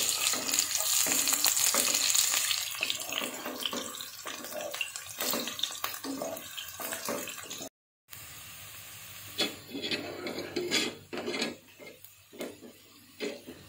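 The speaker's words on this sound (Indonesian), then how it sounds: "Setelah minyak panas, masukkan bawang, bawang putih dan bawang merah. Aduk-aduk sampai harum" Onion, garlic and shallots frying in hot oil with a steady close sizzle, broken by repeated scraping stirs and a brief cut near the middle, then the sizzle and stirring resume.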